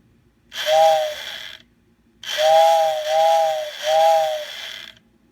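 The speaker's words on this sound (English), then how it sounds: "When you press the whistle, it spins the centrifugal fan, which then blows air through the whistle." An N scale model steam whistle, driven by a centrifugal fan blowing air through it, sounds in short tonal blasts, one then three in a row, each over a rattling fan motor hum.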